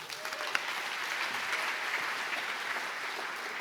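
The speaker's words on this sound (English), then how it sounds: "Please give them all a round of applause." An audience at the APA Heritage Awards 2022 gala applauds the volunteer team, with full, steady clapping that fills the hall evenly from start to finish.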